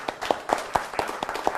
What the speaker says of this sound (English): Everybody clap for Jacob